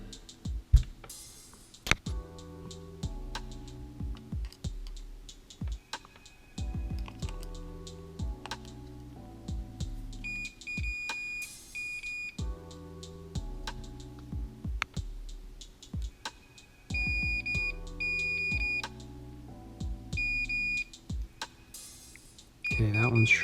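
Multimeter continuity tester beeping against a Nintendo Switch circuit board that will not charge or power on, giving several short, thin beeps amid frequent close tapping and handling clicks of the probes.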